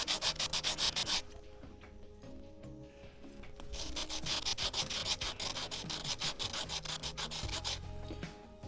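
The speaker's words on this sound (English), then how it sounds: "So I'll just scuff a little bit of the bottom, maybe a little bit of the sides." Close, rhythmic abrasive scuffing of guitar hardware with sandpaper before acid etching, in bursts of rapid back-and-forth strokes separated by a short pause, with no talking.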